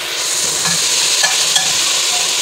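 Tomatoes sizzle steadily in a hot pan while being fried for a curry, with a spoon scraping and stirring in a few soft strokes over the constant frying hiss.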